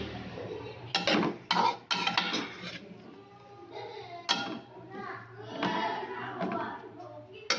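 Singaporean rice being stir-fried in a pan with vinegar added, with a spatula scraping and clanking against the metal in uneven bursts, close and fairly loud, while a voice chatters in the background.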